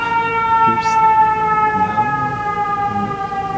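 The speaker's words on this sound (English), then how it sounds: "the siren in the background here" An emergency siren wails in the distance behind indoor surroundings, a steady rising and falling tone that persists throughout while someone talks faintly over it.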